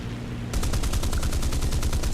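Mustang fighter's 20mm cannons firing in the War Thunder video game, a sudden loud rapid burst of evenly spaced shots that starts after a brief engine drone and runs continuously.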